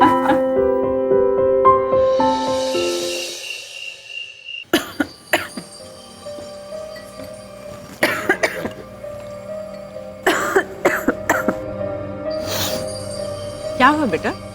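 A person with a slight morning cold coughs and clears their throat in several sharp, close bursts, scattered between moments of talking and background tones.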